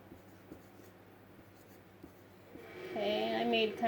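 A pen or pencil scratches the word volleyball onto paper in soft, quiet strokes, and a person starts talking near the end.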